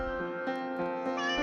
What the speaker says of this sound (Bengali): পিঠফলাঙ্গয়ে বিড়াল ডাকে মিউ মিউ।